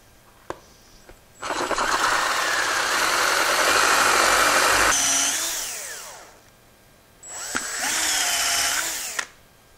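A wood lathe spins a pen blank on a mandrel while a tool removes material, giving a loud whirring, scraping burst of several seconds that fades as the speed drops, then a second shorter burst.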